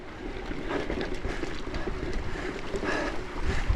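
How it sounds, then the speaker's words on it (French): Wind rushes steadily across the microphone during a UCI Gravel World Cup race near Millau, the rider on rough, stony forest track; a continuous broadband roar with slight gusting swells, close and loud, no voices. "Et puis le vent, toujours le vent."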